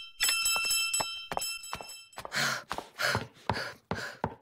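In the Ben and Holly's Little Kingdom cartoon, the king rings a bell: several bright, ringing strikes sound in quick succession, followed by breathy gasps and sighs.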